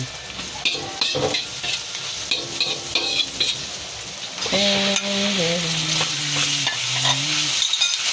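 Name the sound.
sautéing onion and garlic in a pan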